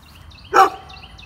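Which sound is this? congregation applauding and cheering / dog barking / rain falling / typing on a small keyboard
dog barking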